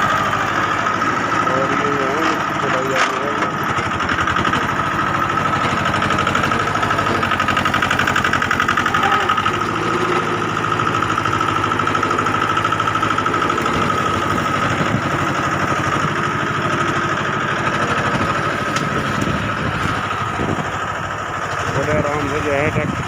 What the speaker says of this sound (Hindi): बड़े आराम से जो है ट्रैक्टर चल रहा है।